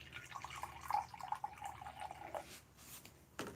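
Water trickles steadily into a regular kitchen measuring cup, a soft continuous pouring stream lasting a couple of seconds before stopping, followed by a brief clunk.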